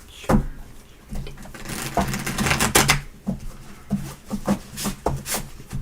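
Tarot cards are shuffled by hand, riffling and snapping in rapid bursts with a few sharp slaps in between, close and fairly loud.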